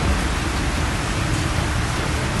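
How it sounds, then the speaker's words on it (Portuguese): Heavy rain during a hailstorm in Lajinha, Brazil, falling as a loud, dense, steady wash of noise that fills the whole stretch without a break. "Chuvão, hein?"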